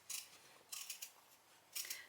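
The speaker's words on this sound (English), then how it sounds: "use my scissors to start the opening" Scissors cut open a fabric tote lining in three short, faint snips, close and quiet, with crisp papery crunches separated by brief pauses.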